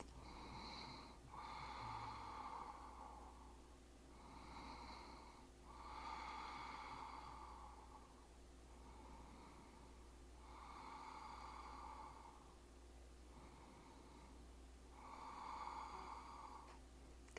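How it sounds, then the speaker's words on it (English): Slow Ujjayi yoga breathing, audible as an ocean-like throaty hiss that rises and falls in long, even cycles of inhale and exhale, close to the mic, soft, and repeated several times without talk. "See if you can pull in the Ujjayi breath."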